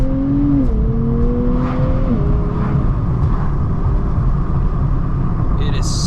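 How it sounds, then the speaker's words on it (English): A Nissan Nismo sports car pulling in second gear, a close, loud engine drone with a rising tone that eases into a steady rumble. "nothing beats an internal combustion engine sports car like this. Let's go down to second gear"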